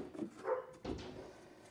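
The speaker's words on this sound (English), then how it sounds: "I don't know why the dog has to wait till I'm recording to start barking." A dog gives two short, quiet barks, somewhat distant, followed by a brief fading tail of room sound.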